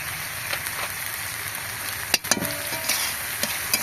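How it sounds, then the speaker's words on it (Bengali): Ground cumin, turmeric and Kashmiri chilli powder fry in a pan with a steady close sizzle, broken by a few sharp clinks and scrapes of a spoon stirring. "ভালোভাবে মশলাটাকে আমাকে ভেজে নিতে হবে।"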